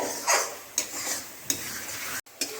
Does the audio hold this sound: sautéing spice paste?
yes